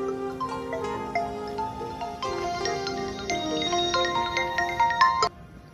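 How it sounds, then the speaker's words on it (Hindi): A mobile phone ringtone plays a bright, repeating melodic tune for several seconds, steady and fairly loud, then cuts off abruptly, with no talk over it. "शायद फोन आ गया उसका।"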